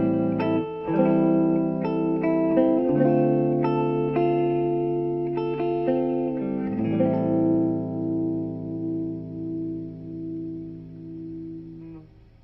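An electric guitar played through a 1984 Roland JC-50 amplifier rings out in a clean, sustained phrase, with plucked notes and chords swelling and then fading into a long, shimmering decay, with no talking.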